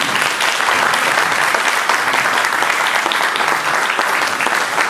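Audience applause at a Pakistan Independence Day gathering in Dundee, Scotland: a loud, continuous, dense wash of clapping filling the whole stretch without a break.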